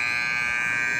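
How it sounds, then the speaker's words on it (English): A steady electronic buzzer sounds at a field hockey scrimmage, a loud continuous tone held without a break, with no talk over it. "No, it's a buzzer"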